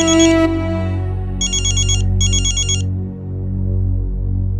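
A mobile phone ringtone from an incoming call sounds in a TV drama scene: two short bursts of electronic ringing, loud and close, with a low, steady music bed running underneath.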